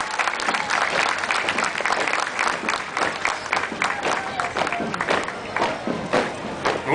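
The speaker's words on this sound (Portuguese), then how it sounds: "Nossos aplausos à Polícia Militar do Vale do Itapocu" A street crowd at a city anniversary parade applauds the passing military police unit, sustained clapping with scattered individual claps and some crowd noise, fairly close and lively throughout.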